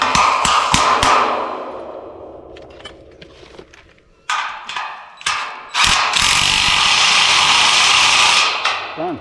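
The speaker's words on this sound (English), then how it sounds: "so when you hammer them in you're not beating the shit out of the thread" Large flat washers hammered into place over a thread, a series of sharp metallic taps and strikes close up, some spaced and some in quick bursts, with ringing clanks between.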